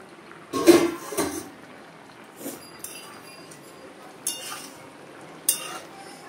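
Metal lid lifted off a cooking pot holding a fish curry with green banana and potato, a few sharp clanks and scrapes spaced apart against a quiet kitchen background.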